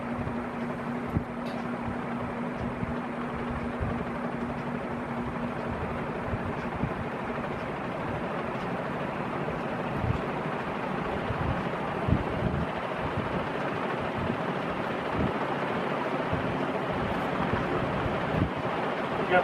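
A KDK industrial ceiling fan running on its high setting, a steady broadband whoosh of moving air with a faint low hum, continuous and unchanging throughout with no talking.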